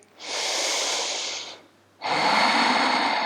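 Two long, loud breaths during a vinyasa yoga flow class, a steady hissing inhale or exhale followed by a brief pause and a second, stronger breath, close to the microphone.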